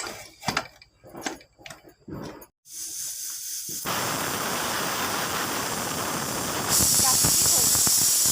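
A loud, steady hiss of steam escaping from a pressure cooker cooking vegetable pulao builds and continues, growing brighter toward the end after some brief clattering at the start.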